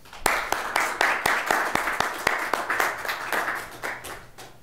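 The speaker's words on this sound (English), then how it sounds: "Give a nice round of applause for our first speaker today, Dr. Brent Wall." A lecture audience applauds a speaker at a sack lunch talk on spinal care, with distinct individual claps from a modest crowd, fairly close and moderately loud, tapering slightly toward the end.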